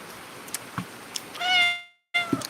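A cat meows a single drawn-out, rising-and-falling call near the middle, with a shorter follow-up meow after a brief silence, amid faint scattered room noises and no talking.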